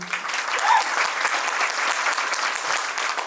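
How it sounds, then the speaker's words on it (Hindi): Loud, sustained audience applause at a celebration event, continuous dense clapping from a large crowd with no speech on top. "लेकिन एक जोरदार ताली चाहिए"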